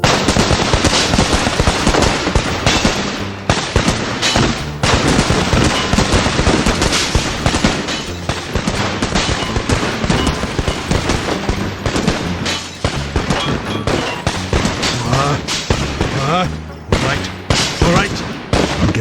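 Dense gunfire in the video game OverBlood 2, rapid overlapping shots and bursts running continuously and loudly for the whole stretch, with voices mixed in.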